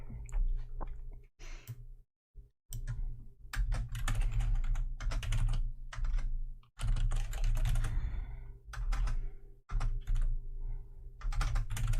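A computer keyboard is typed on in quick, close bursts of clicking keystrokes, with short pauses between runs, in a quiet room without talk.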